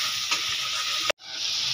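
Chana masala spices fry in a pot while being stirred, producing a loud steady sizzle with scraping stir strokes, cut by a brief pause before the sizzling resumes.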